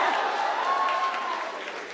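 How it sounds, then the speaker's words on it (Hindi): An audience applauds in a steady, dense wash of clapping that fills the space, with no clear breaks and a slight fade toward the end. "अगर तुम अपनी बहनों से प्यार करते होगे तो ताली बजाओगे"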